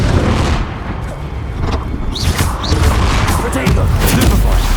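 A Confringo blasting spell from Hogwarts Legacy bursts through a dense, loud battle mix, with booming impacts and crackling hits layered over continuous rumbling game sound.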